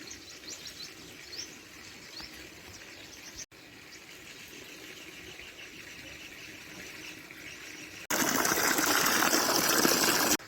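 Water gushes steadily onto a freshly ploughed spinach seedbed in a field, with birds chirping in the background; the flow grows much louder and broader near the end.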